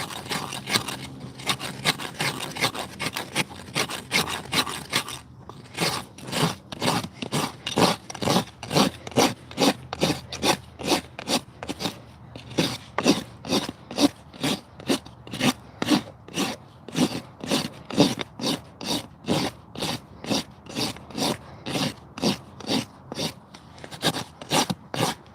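A farrier's rasp files and bevels a horse's hoof in steady back-and-forth strokes, a close rhythmic rasping that continues for the whole stretch with no talk.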